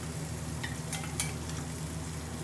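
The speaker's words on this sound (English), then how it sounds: "The onions are nicely caramelizing. It's got that sizzle noise." Onions caramelizing in a pan for a chicken tikka balti give a steady sizzle, with soft stirring scrapes and a few sharp crackles rising over the continuous frying hiss.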